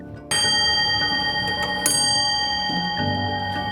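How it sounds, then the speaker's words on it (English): An antique oak longcase clock strikes the hour on a loud bell, one bright ringing blow after a short lead-in, a second stroke near the two-second mark, its long resonant tone sustaining between strikes close by. "they strike the full hour on the hour, most of them on a bell,"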